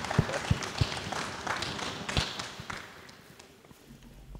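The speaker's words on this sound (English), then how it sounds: "Give Richard a nice round of applause." Crowd applause for a player at a 2on2 Champions Challenge ball tournament awards moment, moderate clapping from a spread-out audience with a few sharp thumps, gradually dying away.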